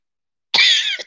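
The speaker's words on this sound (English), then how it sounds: "I hope I didn't cough in my microphone." A single sharp cough bursts out close to the microphone, starting midway and lasting about half a second before trailing off, with silence before it.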